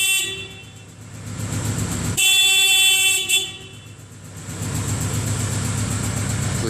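The factory horn on a 2012 Kawasaki Voyager VN1700 motorcycle gives a single loud, steady honk of about a second over the idling engine, which keeps running before and after it.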